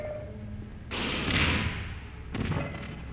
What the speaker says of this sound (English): Rocket launcher. Using the Half-Life 2 rocket launcher sound.